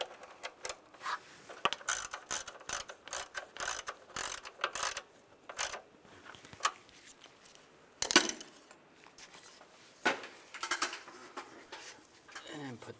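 A ratchet tightens a nut on a cover on a 2007-2013 Chevrolet Silverado 1500 engine, with rapid close clicking bursts repeating in short runs and some light metallic clinks between them.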